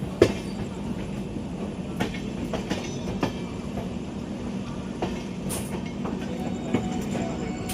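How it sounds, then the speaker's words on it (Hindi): A train arriving at Ghaziabad Junction railway station: steady rumble of moving rail cars with occasional wheel clacks and faint squeals, heard from the platform at a moderate distance. "फिलहाल यहाँ से किसी ट्रेन का अराइवल हो रहा है, वो देख लो।"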